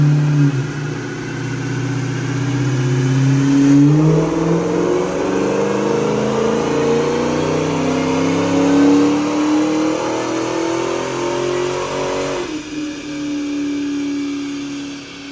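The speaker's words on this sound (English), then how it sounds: "Check out this dyno pull." A supercharged 5.7-liter 2010 Saleen Challenger with an automatic roars through a wide-open-throttle dyno pull, engine pitch sweeping steadily upward for long seconds, with a break as it shifts, loud and sustained with no talk.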